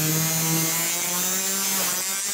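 A saw cuts through a chrome exhaust pipe at a 45-degree angle with a steady, continuous, loud metallic grinding whine and a droning hum throughout, close by and with no talking.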